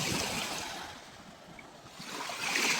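Waves wash steadily along the shore of the Kremenchuk reservoir at Pyvykha hill, a continuous broadband surf rush that swells, dips in the middle and rises again, close and fairly loud with no talking.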